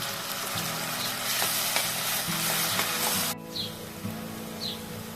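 A paste of ground onion, coriander leaves and green chili sizzles and is stirred in hot oil for a spicy crab curry. The frying hiss is steady and close, with brief scraping stirs and no talk.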